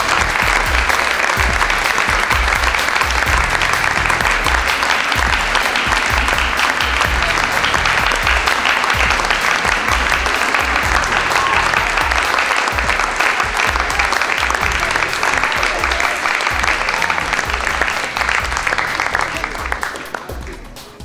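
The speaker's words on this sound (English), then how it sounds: "Please give them a warm round of applause." Audience at a 2011 symposium tribute to Geert Hofstede breaks into loud, sustained applause that fills the room for about twenty seconds before tapering off at the end.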